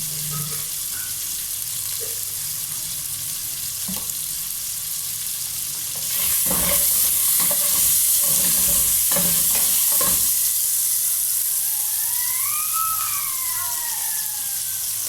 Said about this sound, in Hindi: तो चिकन हमारा फ्राई हो जाएगा।